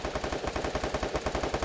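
Rapid automatic gunfire from the Free Fire battle royale video game, a steady rattling burst of evenly spaced shots at moderate level throughout, with no talk.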